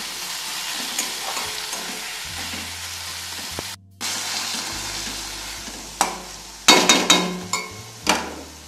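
Ginger paste frying in a hot pan as a spoon stirs it, a steady loud sizzle broken by a brief pause and then several sharp scraping knocks against the pan, close up, with no talking.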